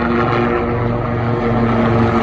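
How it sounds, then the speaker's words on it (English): Apache helicopters pass overhead above stone castle ruins in Okinawa, Japan, their engines and rotors droning as a loud, steady tonal hum that swells slightly throughout. "Apache helicopters going over"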